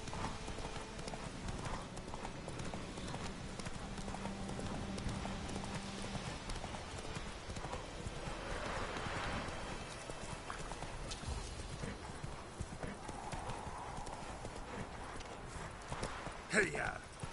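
In The Witcher 3 video game, the horse Roach gallops with a rapid, steady clip-clop of hooves that continues throughout, while a person talks over it fairly quietly.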